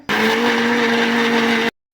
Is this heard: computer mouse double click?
no